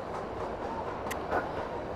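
A steady, muffled rumble of the Kalka–Shimla toy train rolling through a long mountain tunnel, with a couple of brief squeaks from the wheels.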